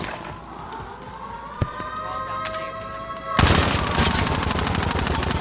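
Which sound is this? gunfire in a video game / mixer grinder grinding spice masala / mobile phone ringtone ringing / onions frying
gunfire in a video game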